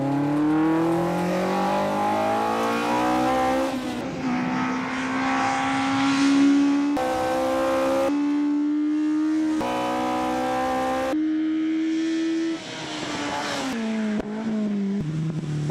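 A race car engine revs hard on a track, rising through gears with sharp shifts and sustained high-pitched howling, loud and close, with no voices.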